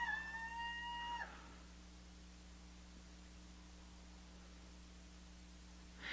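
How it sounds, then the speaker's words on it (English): Rooster, a dark Easter Egger, crows once at a distance, a short wavering call fading out over steady background hiss. "The rooster that you keep hearing."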